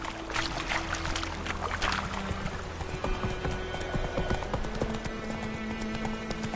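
A horse gallops in the video game The Witcher 3: Wild Hunt, with rapid, steady hoofbeats clattering up close, loud and alone.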